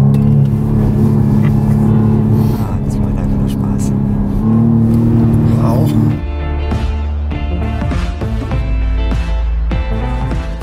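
New BMW 1 Series being driven, its engine note humming steadily and shifting pitch partway through, with a continuous drone close by.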